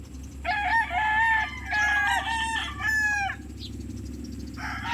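Late-season 2025 stag roosters crow nearby, three crows in quick succession over a steady low farmyard background hum, with the start of another call at the end.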